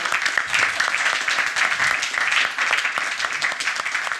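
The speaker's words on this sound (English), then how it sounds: "round of applause" A round of applause from the audience at a music and nightlife panel event, loud and close, with individual claps standing out within a steady, lively patter that continues to the end.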